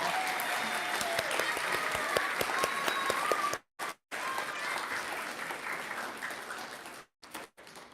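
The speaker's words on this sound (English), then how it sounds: "let's give a huge round of applause to our newly elected Kid Governor, Tessa." Crowd applause celebrating Connecticut's newly elected Kid Governor, a full steady roar of clapping that runs loud and continuous, broken by a few abrupt silent gaps.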